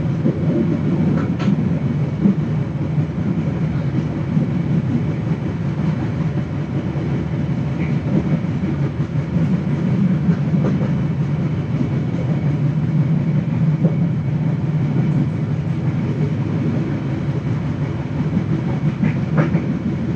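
The Matarmaja passenger train runs on rails at night along the Pantura line, heard from inside a carriage as a loud, steady low rumble with faint rhythmic clicks of wheels over rail joints throughout, no talk.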